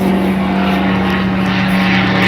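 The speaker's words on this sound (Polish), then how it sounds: "Znowu samolot." A loud, droning propeller airplane passes overhead, its engine noise steady and rough, filling the whole stretch without pause.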